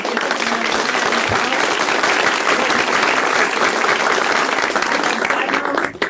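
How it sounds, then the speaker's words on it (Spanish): Sustained audience applause for three panelists at a data center conference panel, many hands clapping steadily and loudly, tapering off near the end. "Yo creo que los tres merecen un aplauso."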